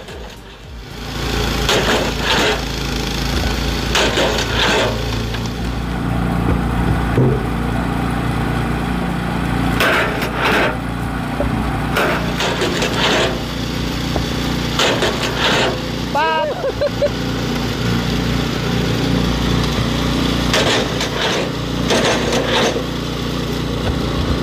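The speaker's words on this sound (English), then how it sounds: "this firewood splitter is a paradigm of engineering excellence" A homemade engine-powered firewood splitter running with a steady droning small engine throughout, periodic louder crunches and thumps of wood being split, and a voice talking over it.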